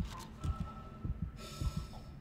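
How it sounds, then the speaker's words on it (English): A player's own heartbeat in the horror game Dead Space thuds low and muffled, steady paired beats repeating about three times under a faint ambient hum. "I like how you can hear your own heartbeat."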